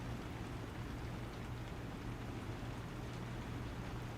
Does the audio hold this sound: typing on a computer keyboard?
no